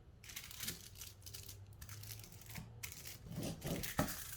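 Thin gold foil crinkles and crackles as it is folded in an envelope fold around a chocolate bar and pressed down against a table, a steady close rustle with sharper crisp bursts toward the end.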